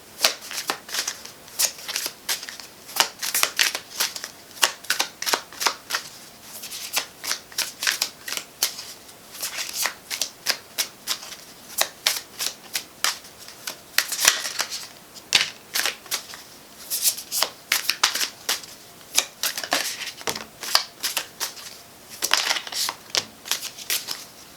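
A large deck of cards is shuffled again and again, giving loud, crisp riffling bursts in quick repeated rounds with short gaps between them, close up and with no talking.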